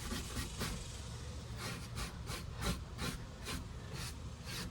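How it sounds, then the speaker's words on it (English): A sander works the crevices and cracks of a driftwood sculpture, making a steady close hiss with a regular rasping pulse as it is pushed back and forth into the tight spots. "It's hard to get the sander in there,"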